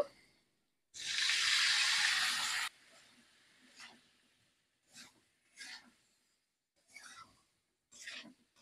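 Water is poured into pumpkin, pointed gourd and potato cooking in spices, making a loud, steady splashing rush for about two seconds, followed by several short scraping stirs and sizzles.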